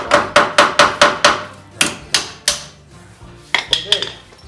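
Sharp hammer taps on the wooden wheel of a 1926 Oakland car ring out close and loud, first in a quick run of even strikes, then in slower, spaced knocks and a few lighter clinks.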